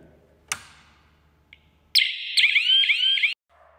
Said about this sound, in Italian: la sirena è veramente, veramente prepotente